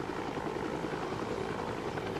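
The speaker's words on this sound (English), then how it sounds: "we should load him in the helicopter and take him across to the base on the other side of the island" A rescue helicopter flies overhead with a dense, steady rotor roar and engine whine, continuous and fairly faint, with no voices heard.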